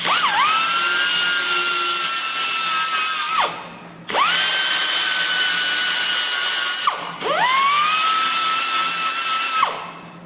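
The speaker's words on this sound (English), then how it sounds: "edge of a belt sander you can use just on here, that's quite handy" A belt sander grinds a fabricated metal car sill in three long bursts, each spinning up with a rising whine, holding a loud steady abrasive howl, then cutting off in brief pauses; close and without talk.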